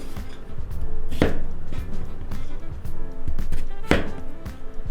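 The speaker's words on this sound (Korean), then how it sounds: "오이를 4등분으로 잘라내고 집게를 이용해서 십자로 칼집을 내주세요." Knife chopping cucumber into quarters and scoring it crosswise, with two sharp cutting strikes on a board standing out over a steady busy kitchen background.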